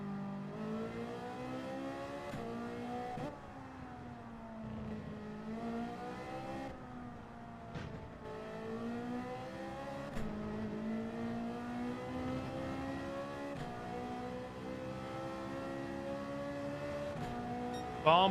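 Race cars in Gran Turismo 7 during a Manufacturers Cup race keep up loud whining engine notes that rise and fall as they rev, shift and pass, continuous throughout.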